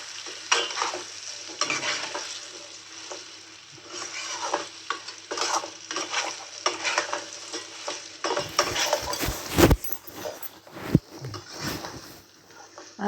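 Fried potatoes and spices are stirred in a pan, a close, continuous sizzle with repeated scraping strokes of a spoon and a few sharp knocks toward the end, with no voices.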